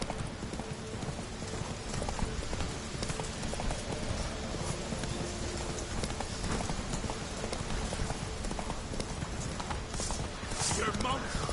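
Horse hooves clip-clop steadily at a trot in The Witcher 3, a continuous rhythmic clatter of hoofbeats on the ground with game ambience and faint background voices underneath.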